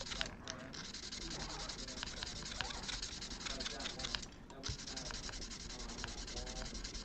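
Fine 800 grit sandpaper rubbing back and forth in short strokes on guitar frets during fret leveling, a soft scratchy hiss, fairly quiet and close, with brief pauses between passes.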